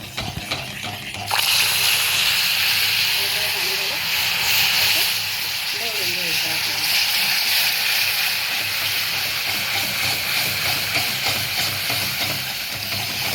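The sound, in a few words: water poured gradually into hot caramelized sugar, sizzling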